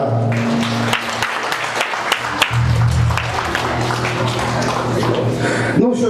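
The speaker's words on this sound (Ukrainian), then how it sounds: "Ваші бурхливі оплески!" A crowd greets a folk band's first performance with applause, a mix of scattered sharp claps over a steady hum, and a voice and some tonal sounds in the background.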